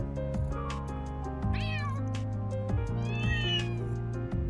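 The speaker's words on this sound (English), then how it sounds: "A cat meeting." Cats meow at a cat meeting in the video game Trails Through Daybreak. Several clear, rising and falling meows follow one another over a steady low background tone, with no talking.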